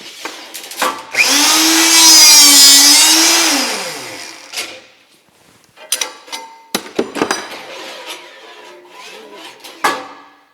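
A $200 rebar cutter snips the end off a steel bar: a loud rising mechanical whir with a tonal whine lasting about three seconds, then scattered clanks and knocks of metal handling nearby.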